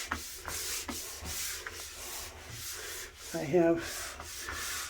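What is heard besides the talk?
scrubbing a tub with cleaning product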